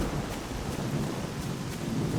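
Heavy rain and a thunderstorm in the video game S.T.A.L.K.E.R., a loud, constant wash of downpour with a deep rumbling underlayer and no voices.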